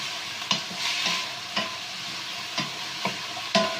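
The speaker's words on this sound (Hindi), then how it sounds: "सबसे पहले कुक करेंगे, फ्राई करेंगे वेजिटेबल्स को" Sweet corn and capsicum fry in a pan with a soft, steady sizzle, broken by several sharp scraping stirs from a spatula at roughly even intervals, close and without speech.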